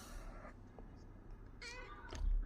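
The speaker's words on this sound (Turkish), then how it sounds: "Seveyim diye mi miyav miyav ediyorsun?" An adult house cat meows indoors, a few soft, fairly quiet calls spaced apart, with faint background noise in between.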